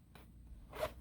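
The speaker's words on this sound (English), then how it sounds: "It's got a YKK zipper on it." A YKK zipper on a pair of jeans is pulled in two quick, faint zips separated by a short pause, close up in a quiet room.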